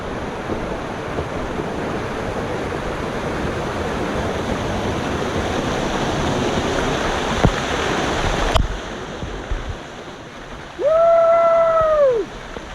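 A waterfall rushes as a steady, loud, broadband wash that drops abruptly to a quieter roar partway through. Near the end a person lets out a brief, high, whooping call.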